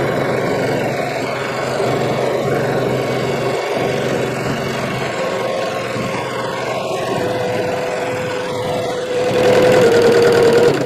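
A sewing machine runs steadily while free-motion quilting a meander stitch around hand-embroidered, crayon-tinted fabric, a loud continuous whirring hum that rises slightly near the end.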